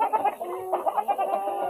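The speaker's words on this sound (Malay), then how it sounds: "Ni ayam RIR, Rhode Island Red, daripada pelbagai tempat lah Pak Long ambil depa." Rhode Island Red chickens cluck in short, overlapping bursts close by, a busy, steady chatter of several birds with no voices over it.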